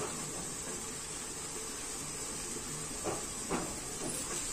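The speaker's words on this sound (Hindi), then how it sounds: "तब तक हमारा सेमी आलू भुना रहा है।" Pieces of semi beans and potato fry in a pan with a steady, soft sizzling hiss, and a couple of faint utensil clinks sound near the end.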